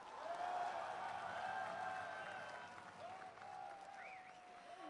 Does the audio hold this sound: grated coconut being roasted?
no